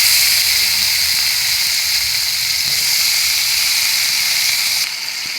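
Chopped bottle gourd sizzling in hot oil after garlic and onion have been fried, a steady hiss that holds evenly and drops slightly near the end, with no talking.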